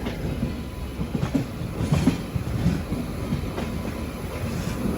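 A Janshatabdi Express passenger train runs between Chennai Central and Vijayawada, its wheels giving a steady rumble with rhythmic clickety-clack over the rail joints, carrying on without any voices.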